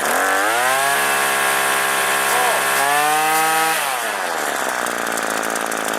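A Hitachi/Tanaka CG22EAS SLP string trimmer runs steadily near full throttle, its two-stroke whine shifting in pitch as the throttle changes, loud and close throughout with no speech over it.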